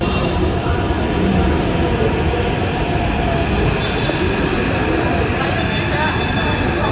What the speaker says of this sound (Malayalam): കൊറിയയിലെ ഹ്യുണ്ടായി റോട്ടം കമ്പനി ഉണ്ടാക്കിയ റൈക്കാണ് കേട്ടോ ഇവിടുത്തെ ഹൈദരാബാദ് മെട്രോയുടെ